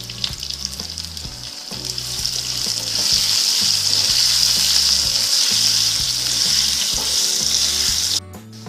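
Potato pieces sizzle and fry steadily in hot oil with salt and turmeric, a loud continuous crackle with occasional stirring, close up, and no talking.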